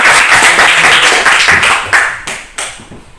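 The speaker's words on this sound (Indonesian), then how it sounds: "kita berikan tepuk jempol dulu terhadap tepuk jempol" A classroom of students doing a rhythmic thumb clap together, loud and close, a dense burst of clapping that breaks into a few sharp separate claps near the end.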